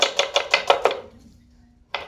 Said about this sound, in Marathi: त्या पद्धतीनं हा कांदा चिरला पाहिजे